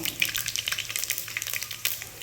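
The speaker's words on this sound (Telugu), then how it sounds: "దీంట్లో తాలింపు గింజలు వేసుకుందాము." Tempering seeds drop into hot oil for ginger chutney and crackle sharply, a quick run of close pops and spits over a soft sizzling bed, with no talk.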